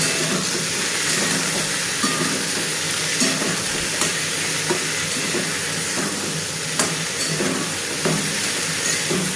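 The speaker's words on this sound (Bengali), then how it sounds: "এগুলো ভেজে নেব" Potatoes, onions and tomatoes frying in a pan with a steady close sizzle and hiss, broken by repeated clacks and scrapes of stirring, with no voices.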